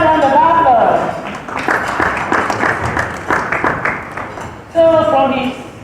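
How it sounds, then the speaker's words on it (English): An audience at a high-level dialogue event on children in war applauds steadily for several seconds, a dense patter of many hands, with a voice speaking briefly before and after the clapping. "Another round of applause."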